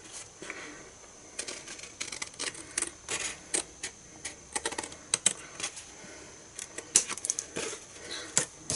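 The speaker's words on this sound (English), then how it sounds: "I didn't cut very straight, so I'm just going to trim." Designer series paper is trimmed on a paper trimmer, making a series of sharp clicks and small ticking snaps at an irregular pace, close but fairly quiet with no talking.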